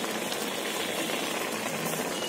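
Water with onion, tomato, green chilli and moong dal simmers in a kadai, giving a steady, even bubbling hiss with no pauses and no voices.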